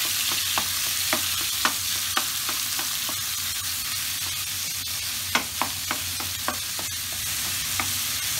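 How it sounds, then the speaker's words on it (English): Half a kilo of lamb mince browns in a hot pan, a steady close sizzle punctuated by regular sharp taps and scrapes of a spatula stirring. "add your lamb mince straight in. I'm using about 1/2 kilo. And we just want to brown that."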